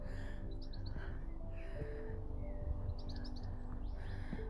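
Birds singing on a sunny, cold morning at a caravan and camping site, with several short bright chirp bursts and trills spread over a steady low background hum, fairly faint and distant.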